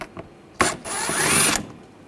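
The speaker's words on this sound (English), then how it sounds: "you're going to take these screws out, use a 8mm socket." A ratchet with an 8mm socket backs out screws on a 2007-2013 BMW 328i during headlight bulb work, giving a short click followed by about a second of rapid close ratcheting, alone without talk.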